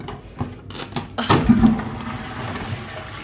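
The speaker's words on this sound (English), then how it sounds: "This is how you flush it." A toilet flushes indoors in a house with a broad, rushing gush of water that swells midway and then settles into a steady draining hiss.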